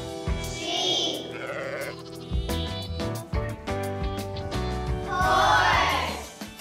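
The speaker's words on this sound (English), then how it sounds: "Sheep!" Sheep bleat repeatedly, loud and close, a few wavering cries with short pauses between them.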